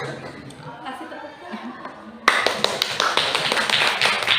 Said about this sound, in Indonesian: Kasih tepuk.